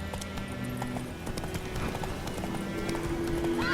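A horse (Roach) gallops in The Witcher 3, a steady, rhythmic clip-clop of hooves that runs throughout at moderate level over a low background music bed, with no talk.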